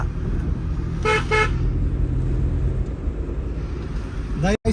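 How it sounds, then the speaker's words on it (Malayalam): At a traffic junction in Pulpally, Wayanad, a car horn gives two short toots over a steady rumble of passing vehicles, with a brief sharp sound at the very end. "ഇതാണ് പുൽപ്പള്ളിയുടെ ട്രാഫിക് ജംഗ്ഷൻ"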